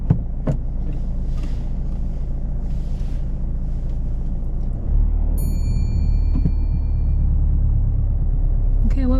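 Car engine rumbling steadily as the vehicle pulls away during a driving lesson mock test, a low continuous drone with a shift in tone partway through and some faint interior noises.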